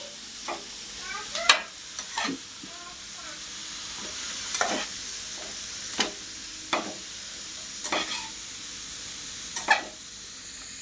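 Ridge gourd cooks in oil in a pan, with a soft sizzle under repeated scraping stirs of a spoon at irregular intervals.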